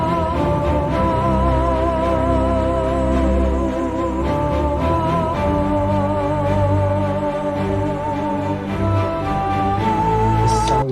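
A cinematic orchestral sketch with huge orchestration, dense layered strings and brass with sustained chords and a moving melody, loud and full throughout with no talking.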